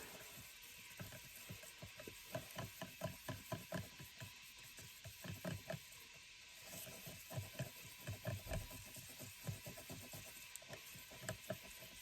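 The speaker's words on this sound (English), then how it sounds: "And stir it up." Acrylic pouring paint mixture is stirred by hand in a cup, giving quiet, rhythmic wet scraping strokes that keep going steadily, close and soft, with a brief pause midway.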